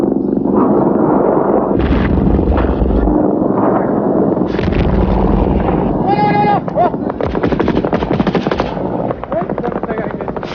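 Soviet troops dug in at a village edge in Afghanistan lay down covering fire, with loud rapid bursts of machine-gun fire and heavier booming shots, dense and continuous, mixed with rumbling and other field noise.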